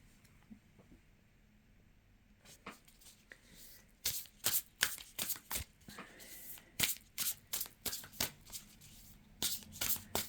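Tarot cards shuffled by hand for a reading, a soft riffling start followed by a run of sharp, close flapping bursts in quick irregular rhythm, with no talking.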